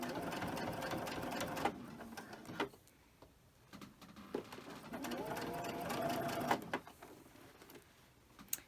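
A sewing machine runs a line of top stitching along the edge of a fabric sleep mask. Close, steady whirring comes in two runs separated by a short pause, with a few light clicks between them.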